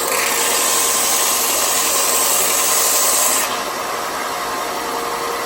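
Power sander working over wooden slats for a restored Radio Flyer wagon, a steady loud abrasive whir with a constant hum, shifting to a slightly lower pitch partway through and continuing without pause.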